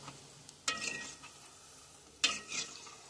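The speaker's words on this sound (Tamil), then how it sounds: "நல்லா சூடா ஆன அப்புறம் வந்து உருண்டைகளை போட்டோம்." Rice-flour gulab jamun dough balls frying in hot oil, a soft steady sizzle with two sharper stirring scrapes near the start and later, close and fairly quiet, no talking.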